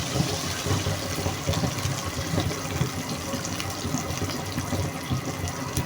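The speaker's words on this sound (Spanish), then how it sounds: "Le agregamos un poco de nata." Cream poured into a pan for a homemade ham and cheese sorrentinos sauce, a steady close liquid pouring and splashing wash lasting several seconds with no talk.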